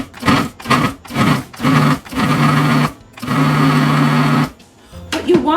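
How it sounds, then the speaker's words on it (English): Food processor pulsing flour into coarse crumbs for apple pie bars: a loud, close motor whirring in a series of short pulses followed by longer runs, each burst stopping abruptly. "put this on our food processor, and we're going to just pulse it a few times"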